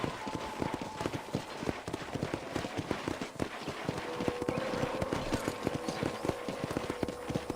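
Rapid, regular horse hoofbeats in the video game Red Dead Redemption clip-clop without a break for several seconds, steady and fairly close, with a faint tonal hum in the background.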